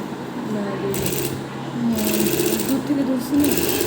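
Sewing machine running in short bursts while stitching a salwar waistband, with back stitches at the start; someone talks over the whirring motor throughout.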